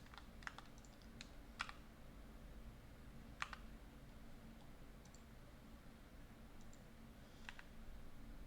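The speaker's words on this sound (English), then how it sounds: "My keyboard is it's probably really loud" Steady typing on a loud computer keyboard, with irregular clicks and a few sharper key strikes standing out over a constant low room hum, no talking.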